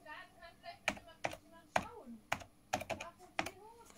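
Keys clacking on the keyboard of a French Minitel 5 terminal, a handful of crisp, close keystrokes in an irregular rhythm over a quiet room, with a faint voice murmuring briefly between them.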